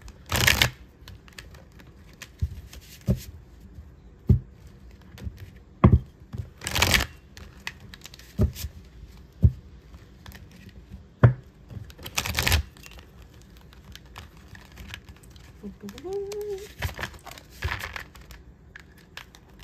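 Intermittent papery riffles and slaps of tarot cards being shuffled, scattered bursts separated by near-silent pauses, close and quiet with no speech.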